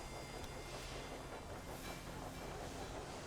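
Trains halting at a station in the Railway Empire 2 British Isles video game, a steady rumbling rail and carriage bed with faint hiss, continuous and moderately quiet throughout.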